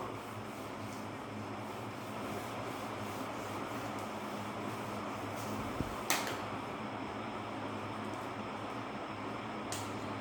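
Someone rubs a classroom board clean during a math lesson, making a continuous, even scrubbing sound close by for the whole stretch, with a couple of small knocks.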